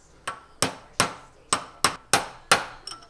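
A hammer drives a new bearing race into place, striking the old race used as a setter, giving seven sharp metallic knocks at an uneven, roughly half-second pace, close up and without talk.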